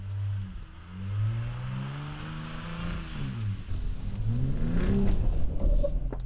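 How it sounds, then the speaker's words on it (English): A 2021 Ford F-150 Raptor on 37-inch tires plows through mud off-road, its engine rumbling and rising and falling in pitch, then swelling louder toward the end. "Now for this thing, I can't really slow down because of the mud, so I am just plowing over everything."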